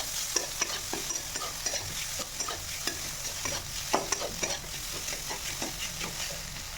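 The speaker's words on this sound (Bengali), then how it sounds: "আলুটা দিয়ে ভেজে নেব।" Potatoes fry in a pan with turmeric, coriander and cumin powders, a constant sizzle broken by frequent sharp scrapes and taps of a spatula stirring at an irregular rhythm, close and fairly quiet, with no talking.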